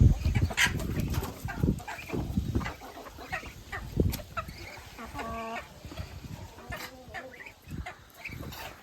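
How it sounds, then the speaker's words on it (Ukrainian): Several small bantam chickens cluck and chatter close by, with short bursts and a drawn-out squawk, alongside rustling and scattered handling noises. "Карликові кури"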